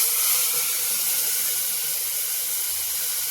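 Soaked chickpeas with their soaking water tipped into a cooking pot for a no-garlic chole dish, a steady close hissing pour that holds evenly throughout.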